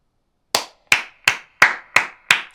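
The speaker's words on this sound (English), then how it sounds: "I'm gonna clap him up." Six sharp, separate hand claps from a single person, loud and close, spaced evenly at a slow deliberate pace after a short silence, with no talking.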